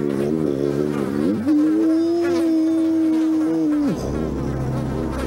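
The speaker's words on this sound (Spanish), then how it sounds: "Y ahora sí escuchó a las moscas que tenían su nido" Flies nesting behind a door inside a house give a steady droning buzz for a couple of seconds, set between stretches of a voice narrating.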